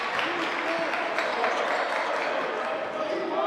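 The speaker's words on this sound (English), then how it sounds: "look to the crowd to get some noise" The crowd at a college men's basketball game between Georgian and Centennial makes steady noise with clapping and cheering, a dense continuous roar with a commentator's voice over it.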